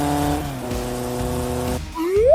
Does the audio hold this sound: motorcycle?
yes